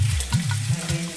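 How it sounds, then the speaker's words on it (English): Spaghetti and eggs frying in a pan over low heat, a close, continuous sizzle with a low rumble throughout. "And then just fry."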